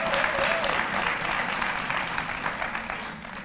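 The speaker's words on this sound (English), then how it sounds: "All of our students who are here, let's give them a round of applause." A Welcome Week audience claps for students in a steady roar of applause that slowly thins over a few seconds, with faint voices in the background.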